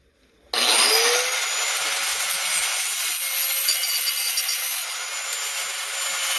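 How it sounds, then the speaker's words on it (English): A power wire brush scouring the weld on a homemade steel train wheel, a loud, steady abrasive whine that starts abruptly and holds almost unchanged for several seconds, up close and with no talking. "I'm gonna take a brush and wire that."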